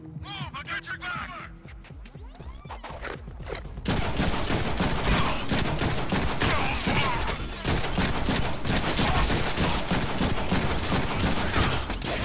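Heavy automatic gunfire and blasts from the Deadpool action video game, starting sparse under game speech and music, then after a few seconds becoming a dense, loud, continuous barrage of shots mixed with shouted voices.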